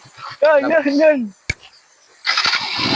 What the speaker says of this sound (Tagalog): Motor natin.